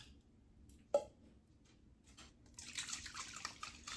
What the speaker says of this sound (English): pour in my nowadays and my lemon juice